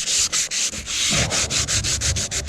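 Close-up hand sanding on fiberglass and epoxy during a repair to a 12-foot Gamefisher boat, with steady rhythmic scratchy strokes in quick back-and-forth repetition and no talking.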